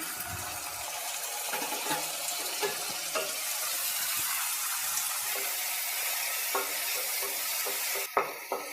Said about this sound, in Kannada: ಈಗ ಈರುಳ್ಳಿ ಟೊಮೆಟೊ ಫ್ರೈ ಆಗಿದೆ